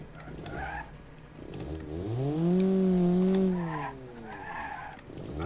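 An army jeep's engine in BeamNG.drive revs up and strains as its tires spin for grip, a loud rising and falling whine that swells in the middle and then eases, with no talk.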